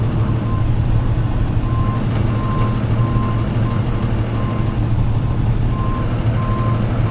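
A tow truck backing up near a trailer gives a steady, loud reversing beep repeating at even intervals over a deep idling diesel rumble, with no talk.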